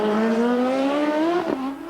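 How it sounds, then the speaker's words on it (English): A BMW-engined Formula 1 car at the 1986 Australian Grand Prix practice screams loud and close at high revs, its engine note rising steadily, then a brief crackle and dip as it lifts off and brakes. "the BMW engine he's got behind him is probably the most powerful."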